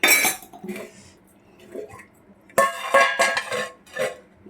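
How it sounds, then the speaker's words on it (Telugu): A metal lid being set on a pot of Rayalaseema-style chicken curry, with a few sharp close clanks and scrapes of metal on metal separated by short pauses. "మూత పెట్టేసుకోండి"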